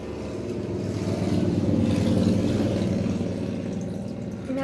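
Road traffic close by, with a single vehicle's engine rumbling as it passes, swelling to a peak midway and fading off again over a few seconds.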